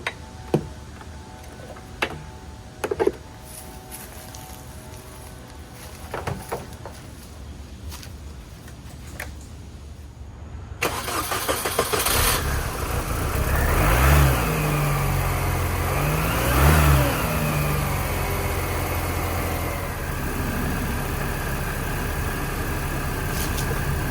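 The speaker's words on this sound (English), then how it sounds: "I'm going to start this car and yeah, just let it run" A car engine starts partway through and then runs steadily at idle with a couple of swelling revs, fairly loud and close; before it, only quiet ticking and small handling sounds.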